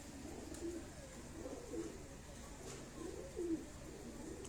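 A Teddy pigeon coos in repeated low, rolling phrases, about four distinct calls, close and clear over a soft background hum, with no voices.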